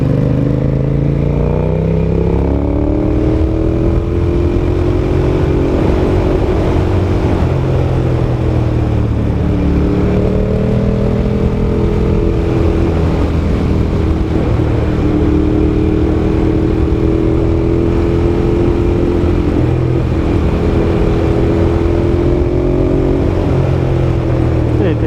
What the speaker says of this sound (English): The perks of riding a Ducati.